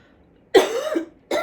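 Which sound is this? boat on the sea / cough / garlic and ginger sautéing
cough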